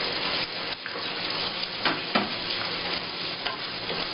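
Lotus root masala simmering with milk in a pan over high gas, stirred continuously: steady close sizzling and bubbling with scraping stir strokes throughout, no voices.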